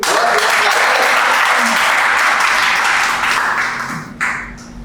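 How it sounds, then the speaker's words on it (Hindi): An audience at a Hindi shayari poetry recital breaks into dense, sustained applause that holds steady for about four seconds before tapering off with a few last claps. "तो एक बार तालियां बजा दीजिए भाई"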